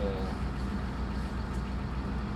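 T-150 tractor engine running during field demining, a steady low, heavy rumble close by that holds constant throughout, with a voice talking over it.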